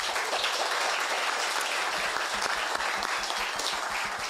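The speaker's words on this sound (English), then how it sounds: "I want a huge round of applause for our panel." A conference audience gives a fintech panel a loud, dense, sustained round of applause that fills the room evenly, with no talking over it.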